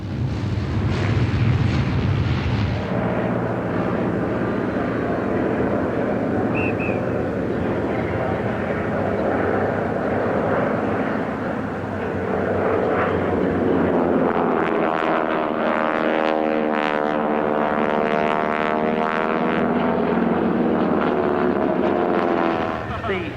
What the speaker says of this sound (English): T-28 being ably flown today